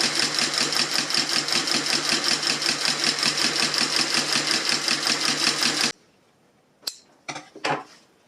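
A Consew 223R industrial sewing machine fitted with a right angle binder stitches ripstop fabric in a fast, even, loud chatter for about six seconds, then stops, followed by a few sharp clicks and handling clatters.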